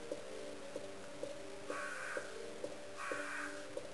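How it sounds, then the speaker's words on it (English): Crows caw in the Resident Evil video game, two clear bursts of harsh calls standing out over a steady droning ambient loop with regular soft beats, fairly close and moderately loud. "Managed to do without getting murdered by crows, even."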